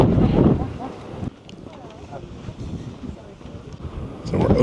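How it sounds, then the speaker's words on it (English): Wind gusting at a lookout over lava rock on Lanzarote in the Canary Islands, buffeting the microphone in loud bursts at the start and end with a steadier rush between. "A little windy. Let's hold on to our hats"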